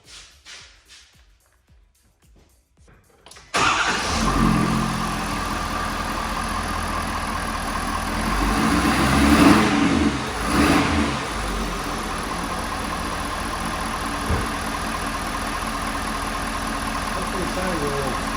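A Ford F250 Super Duty 6.7L diesel turns over after a few quiet seconds and catches with a loud start, then settles into a steady, rumbling idle, close up; people talk at points.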